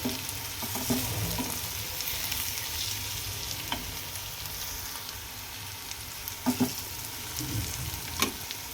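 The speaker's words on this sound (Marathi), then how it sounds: "आता व्यवस्थित मिरची मसाले वगैरे व्यवस्थित परतून घ्यायचे आहे" Green chili and ginger-garlic paste with spices sautéing in a pan for masoor dal, a soft steady sizzle with a few sharp scrapes of a spoon stirring against the metal.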